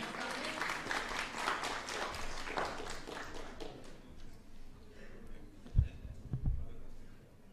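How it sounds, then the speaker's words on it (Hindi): Dense audience applause at a televised Indian political stage event fills the first half, then fades away, leaving a quieter room with a couple of soft low thumps near the end. "तालियां हो जाएं।"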